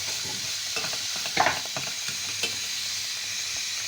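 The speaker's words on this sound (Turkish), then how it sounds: "Salçayı iyice kavurun." Tomato paste fries and sizzles in a pan, a steady hiss broken by a few louder scrapes of stirring, close and with no voices.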